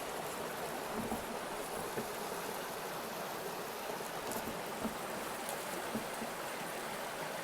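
A creek beside a field along the Appalachian Trail, a steady broadband wash of running water that stays even and unbroken throughout, with no voices.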